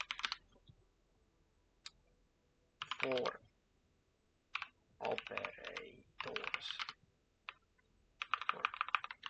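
Bursts of keystrokes on a computer keyboard come in uneven clusters separated by quiet gaps, close and crisp, with a brief spoken phrase among them.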